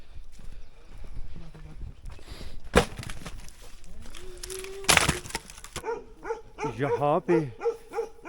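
Bakarwal dogs kept by villagers in Azad Kashmir bark several times in quick bursts near the end, with hoof-like clopping and a voice talking earlier in the outdoor scene.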